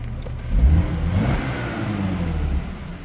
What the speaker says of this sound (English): so now it's revving clean again